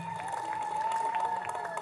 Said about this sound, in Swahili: mpigeni makofi tafadhali